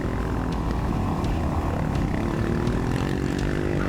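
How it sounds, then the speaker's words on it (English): Continuous, loud engine roar with wind rush while riding an adventure motorcycle on a mountain trail in the high Rockies; a steady drone with no clear passing swell. "I don't think I can let a KLR pass me"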